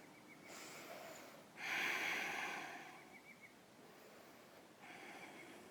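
A person doing yoga in the eye of the needle pose takes slow, audible breaths close by, with soft airy inhales and exhales in a gentle, unhurried rhythm.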